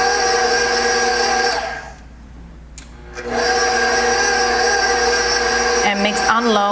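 An electric mixer pulses buttercream with cocoa powder, its loud steady whir cutting out for about a second before running again, with a brief change in pitch near the end.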